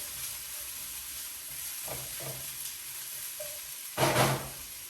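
Food sizzles in olive oil in a pan, a steady, fairly quiet hiss with a few soft pops that swells into a brief louder burst near the end, with no talking.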